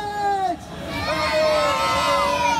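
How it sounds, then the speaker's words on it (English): A crowd of children yells as loud as they can before a kids' running race, a loud sustained outdoor roar of shouting and cheering, with a voice audible at the start. "Yell as loud as you can."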